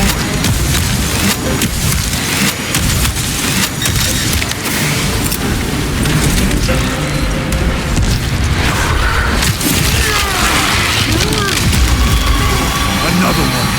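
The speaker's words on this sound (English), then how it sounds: "Frag grenade deployed." A frag grenade explodes in the video game Warhammer 40000: Space Marine 2 amid a dense, loud battle din of booms, splintering debris and mechanical clatter, with voices speaking over the chaos.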